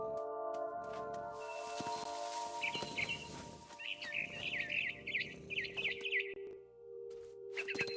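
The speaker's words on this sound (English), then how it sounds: "Then I heard chirping outside my window. It was a barn swallow going back to her nest." A barn swallow chirps in the video game What Remains of Edith Finch, a run of quick, bright tweets in the middle of the clip over a steady background music score.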